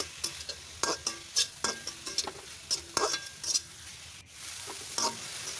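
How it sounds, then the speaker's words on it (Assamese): Onions fry in refined oil in a pan for veg chowmein, a steady close sizzle broken by regular sharp scrapes and clinks as a spatula stirs them. "পিঁয়াজখিনি ৰঙচুৱা পৰালৈকে ভাজি ল'ম।"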